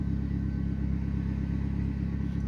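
An old yellow work truck's engine runs close by with a loud, even, low rumble and throbbing idle pulse that holds steady for the whole clip, with no voices.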